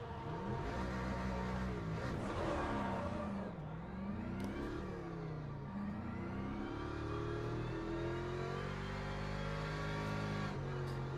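Several Porsche race cars idle and rev through a formation lap in Le Mans Ultimate, engines rising and falling steadily in a close, continuous mechanical drone with no talk.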